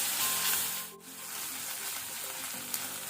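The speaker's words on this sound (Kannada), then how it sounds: "ಶುಂಠಿ ಬೆಳ್ಳುಳ್ಳಿ ಪೇಸ್ಟ್ ಸಹ ಒಳ್ಳೆ ರೀತಿ ಫ್ರೈ ಆಗಿದೆ" Ginger garlic paste fries in a pan for palak chicken gizzard dry, making a steady, bright sizzle that holds fairly even with a brief dip before carrying on alone.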